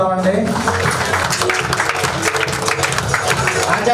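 A standing audience at a talk claps together in a dense, steady burst of applause, close and loud, filling the few seconds with rapid overlapping claps.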